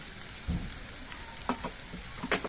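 Cumin and coriander pastes with turmeric and salt sauté in a pan. A quiet sizzle is broken by a few short scraping stirs over roughly two seconds.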